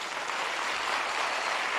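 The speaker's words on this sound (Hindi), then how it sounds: "अगर आप यीशु के लिए ताली बजा रहे हो तो अच्छे से बजाओ" A church congregation claps for Jesus during a worship service, giving dense, steady applause from many hands that fills the room without a break, with no speech over it.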